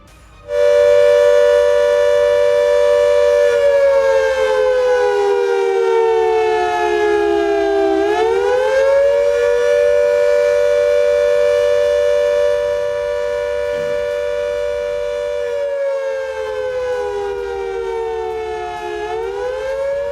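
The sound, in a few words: civil defense war siren test sound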